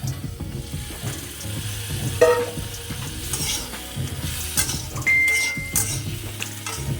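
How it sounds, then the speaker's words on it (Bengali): Spice paste sautés in a pan over low-medium heat for a Bengali raw mango and rohu fish curry. A steady sizzle runs throughout, with scraping stirs and occasional metal clinks. "এরপরে বেশ সুন্দর করে কষাতে হবে যতক্ষণ না একটা স্মেল আসছে এবং লাল লাল হচ্ছে ততক্ষণ কষিয়ে নিতে হবে"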